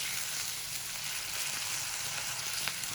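Minced qeema fries in a pan for Arabic-style kachori, a dense continuous hiss of sizzling oil with faint stirring underneath, steady and close with no talk.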